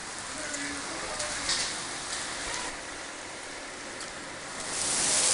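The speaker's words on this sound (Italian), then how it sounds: "È cominciata ragazzi, è cominciata questa la pioggia potente." Heavy summer storm rain pours steadily as a dense, continuous hiss, loud and close, swelling slightly toward the end, with no talk over it.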